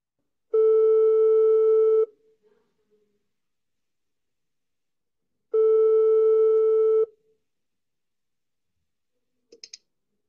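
A telephone rings twice, each ring a steady electronic tone lasting about a second and a half, separated by a pause of several seconds, followed by faint clicks as the call is picked up.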